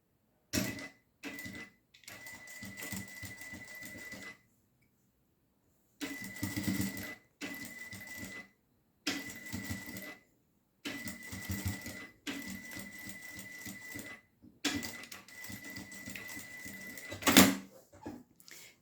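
Sewing machine stitching a small fabric nail-file holder, running in several short bursts of rapid, steady whirring separated by pauses, ending with a brief backstitch run and a sharp click.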